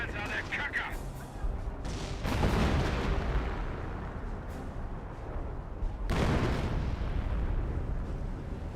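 Heavy artillery barrage explodes in a Company of Heroes World War II strategy battle. Deep, rumbling blasts arrive in waves, with sharp onsets near the start and again later, each rolling off into a long, thundering tail.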